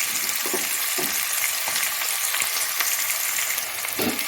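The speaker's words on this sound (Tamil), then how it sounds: "கொஞ்சம் கருவேப்பிலை போட்டு நல்லா வதக்கிக்கோங்க." Onion, garlic and curry leaves sauté in hot oil for a spicy goat-head curry, a loud, continuous frying hiss with occasional soft knocks from stirring close by.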